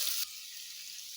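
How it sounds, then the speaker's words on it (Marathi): Vegetables dropped into a pan of hot oil and ghee set off a loud sizzle that settles into a steady, softer frying hiss, with no talking. "आता व्हेजिटेबल्स ॲड करून घेऊयात पॅनमध्ये."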